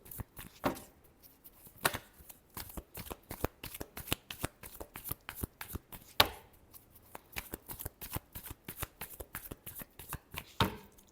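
Tarot cards being shuffled by hand, a long run of close, crisp riffling and slapping bursts in an uneven rhythm, with no one speaking.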